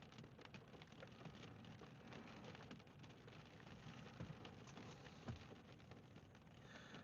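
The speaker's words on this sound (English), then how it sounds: "All I can hear is rain hitting my car roof." Rain drumming on a car roof, a dense steady patter of drops heard from inside the vehicle, with a faint low rumble beneath; quiet, continuous and without voices.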